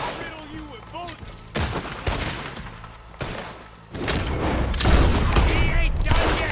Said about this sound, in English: I'll riddle you with bullets!